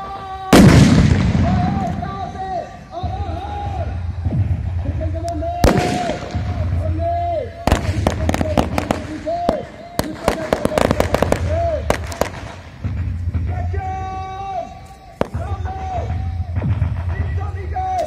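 Gunfire rings out during a war drill demonstration by NCC cadets at an outdoor NCC Day celebration. Sharp, loud shots come singly and in rapid clusters, echoing over an amplified voice.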